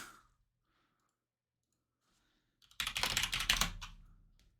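Rapid computer keyboard typing close by, a dense burst of clicks that starts after a near-silent stretch and tapers off, with a soft exhale at the start.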